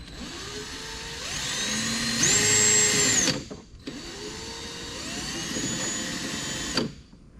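A power drill with a step bit bores a pilot hole for a mud flap on a Dodge Challenger, two sustained whining bursts of motor and cutting noise, loud and close, separated by a short pause.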